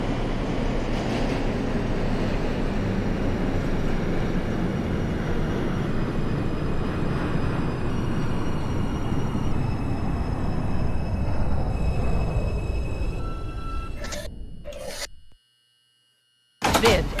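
A simulated NYC Subway R142 on the Brooklyn-bound 5 local rumbles along steadily with a low rolling roar and faint tonal whine, fading out near the end before a brief silence and a short burst of sound.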